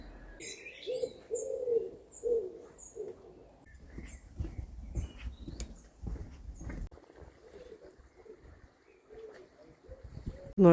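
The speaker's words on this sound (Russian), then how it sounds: "Послушайте эту тишину и пение птиц." Birds sing and pigeons coo in a quiet Normandy village, soft coos and scattered chirps close by over a calm outdoor background, with no talking.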